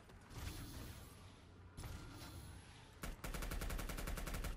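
Rapid video game gunfire rattles out, first as a broad roaring barrage, then after a brief break as a fast, evenly spaced automatic burst that runs to the end, fairly quiet overall with no talk.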